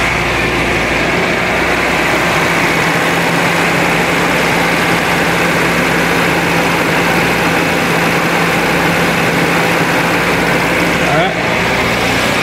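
Steady, loud low engine drone and exhaust rumble from a Renault Trafic van or Renault 11, continuous and unbroken throughout with no clear voices.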